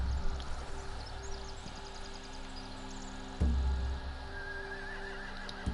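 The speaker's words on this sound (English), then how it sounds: "They have horses." Horses whinnying in a game scene from The Walking Dead, a few faint, drawn-out neighs over a steady ambient hum with background music tones.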